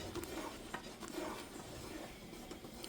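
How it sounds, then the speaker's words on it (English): Peach jelly boiling in a pot, giving a faint bubbling simmer with soft, repeated stirring scrapes from a spoon against the pot, heard close and quiet with no talk. "This is a boil that can be stirred down."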